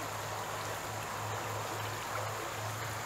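A shallow creek on a mini horse farm property in Mills River, North Carolina flows in a steady, close rushing wash with no pauses.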